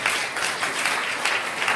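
Dense applause from a crowd, steady clapping filling the short moment without pause.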